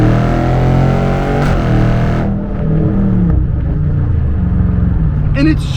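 A 500-horsepower 2021 widebody Scat Pack muscle car engine roars and revs with a strong low rumble, pitch climbing as it accelerates; a brief higher whine rises near the end.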